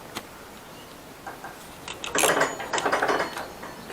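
A ratchet torque wrench tightens the sump plug on a Honda CBR500R, a few faint clicks followed by a louder burst of rapid ratcheting clicks up close, with no talking.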